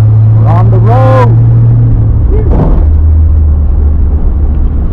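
A 1966 Ford Mustang, abandoned for over 20 years, drives on a road with a loud, steady low engine rumble, while a voice briefly talks over it near the start.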